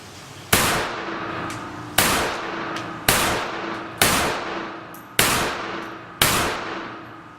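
Remington RM380 pistol fired six times on a range, each shot a sharp, loud crack with a short ringing decay, spaced roughly a second apart in a slow, even rhythm, with no talking.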